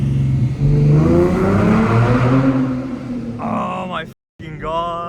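A 2015 Ford Mustang with a 3.7 L V6 accelerates hard in first gear, its rising engine note heard from inside the car. A voice speaks over it, and the engine climbs in pitch before a brief cut and a renewed rise.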